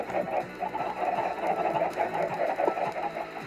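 Chickens in a blocky video game world cluck in quick, repeated bursts, a busy overlapping chatter of several birds at moderate loudness, with no voices.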